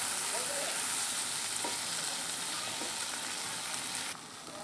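Shrimp frying lightly in hot oil, turned on both sides, for yogurt shrimp: a steady, close hiss of sizzling with a couple of soft ticks that drops slightly in level near the end.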